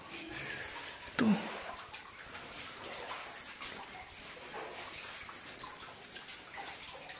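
Water drips and falls steadily all around a narrow, wet path, a diffuse hiss of trickling and splashing that sounds close and continuous, with one brief sharper splash near the start and no talk.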